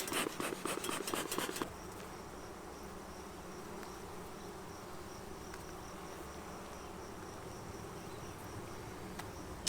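Honeybees drone steadily from an open hive during an inspection, a dense close buzz that carries on throughout, with a few brief clattering knocks near the start.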